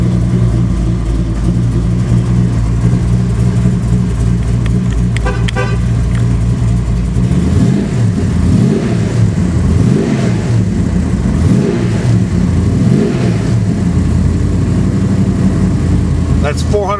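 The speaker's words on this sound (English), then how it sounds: "That's 496 cubic inches of Chevrolet big block, putting out all kinds of naturally aspirated horsepower." A naturally aspirated 496 cubic inch Chevrolet big block in a Pro Camaro idles with a loud, lumpy rumble, then gets blipped repeatedly in a rhythmic run of rising and falling revs.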